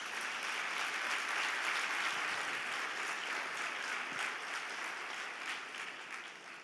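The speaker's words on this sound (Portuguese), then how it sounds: "Se você recebe, dê um aplauso a Jesus." A congregation at a Sunday church service claps in steady, even applause, a soft wash of many hands that holds throughout and fades slightly at the end.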